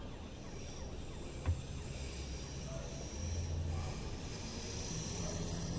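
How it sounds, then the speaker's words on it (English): A Class 314 electric multiple unit departs in Train Sim World 5 on the Glasgow Cathcart Circle, a steady low rail rumble that builds slightly as it pulls away, with a brief click near the start. "Let's watch the train leaving as well."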